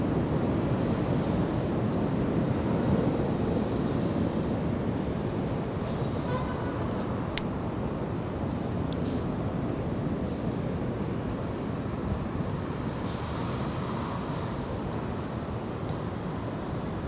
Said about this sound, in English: 737 Delta Airlines lining up. And there it goes. Takeoff roll.